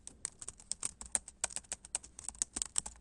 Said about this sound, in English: I'm just typing these notes as I talk.